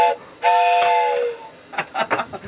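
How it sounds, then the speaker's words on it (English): A steam train whistle sounds one sustained shrill blast, followed by short hissing puffs of steam. "That train is coming."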